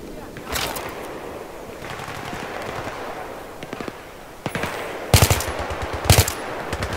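Bursts of rapid gunfire crackle in Battlefield 3 over a noisy, busy background, with a few sharp volleys near the end and faint voices underneath.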